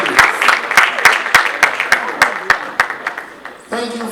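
Rhythmic applause from an audience at a municipal assembly awards ceremony in Ghana, a steady, fairly loud clapping that fades toward the end as a voice begins speaking.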